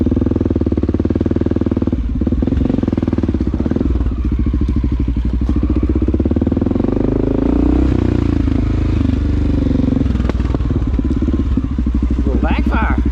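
A Honda XR650L motorcycle riding along a trail, its engine a steady loud drone throughout with clatter and thumps from the rough ground, while a person talks over it.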